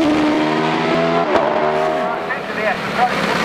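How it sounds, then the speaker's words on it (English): A 650 horsepower Ghoul Quadruple HB race car launches off the line at a British hillclimb. The engine roars loud and close, its harmonic whine rising and shifting through gear changes and staying strong throughout. "Off the line now in one of the most powerful cars at the meeting today, the 650 horsepower Ghoul Quadruple HB"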